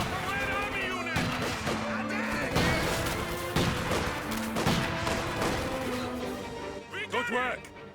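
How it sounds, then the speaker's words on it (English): Battlefield gunfire from the video game Company of Heroes 2, with repeated heavy shots and crashing impacts mixed with loud in-game voices calling out over the combat. "I can hear the guns firing."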